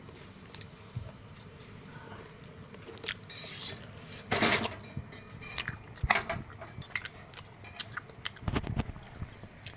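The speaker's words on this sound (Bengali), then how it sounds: "আমি এখন সন্ধেবেলার পরোটা খাচ্ছি পেঁয়াজ কাঁচা লঙ্কা কুচে ময়দা দিয়ে পরোটা করে" Someone eats homemade onion and green chili paratha in the evening, with scattered clinks of dishes and utensils, close chewing and biting, and a few louder knocks and clatters in a quiet room.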